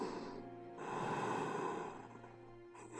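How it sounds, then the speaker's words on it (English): Heavy, drawn-out breathing comes through a phone line in a video game, a slow breathy swell and fade with a sharp intake near the end, heard fairly close and alone. "There's just somebody breathing."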